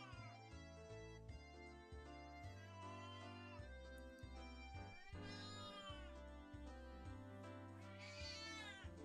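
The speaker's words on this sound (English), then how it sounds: "Cat is loud." Cat meowing in a loud, drawn-out way, twice, rising over steady game music that plays throughout, with no talk.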